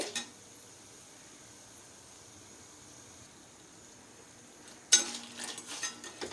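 Pieces of food frying in a pan in a home Indian kitchen, with a soft, steady sizzle for most of the stretch, then a louder burst of stirring and utensil scraping near the end. No one speaks.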